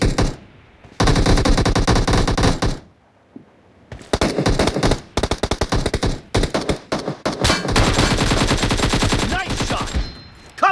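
Loud, close automatic gunfire in PUBG Mobile, played on a Samsung S10 Plus, arriving in long sustained bursts of rapid shots separated by short silent gaps, with quick choppy volleys toward the end.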